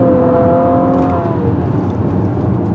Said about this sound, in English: A nice growl to the engine.